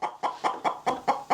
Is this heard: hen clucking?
yes